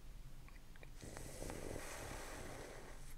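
Snoring from a large sleeping Snorlax in a Pokémon audiobook scene, a low rumbling drone that swells midway and holds steadily, faint and without speech.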